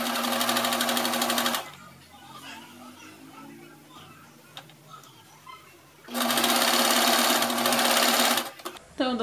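A sewing machine stitches a blouse with a gathered collar and tiered sleeves, running in two loud sustained bursts with a quieter pause between them where faint handling noise and a brief voice come through.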